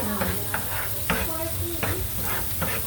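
Onions frying in a pan sizzle with a steady hiss, broken by a few brief stirring scrapes at irregular intervals. The sound is close and moderately loud, and no voices are heard.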